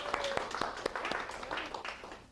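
Audience applause for a guest speaker at a talk, a fairly quiet, sparse patter of individual claps from a modest crowd, somewhat distant and uneven over a couple of seconds.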